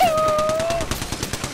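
Rapid automatic gunfire rattles in the video game Destiny, a fast steady stream of close shots with a brief tonal whine at the start.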